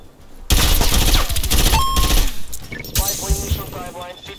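Suppressed M16 fire in the Call of Duty Cold War video game, a loud run of rapid muffled bursts with game effects layered in, fading after a couple of seconds.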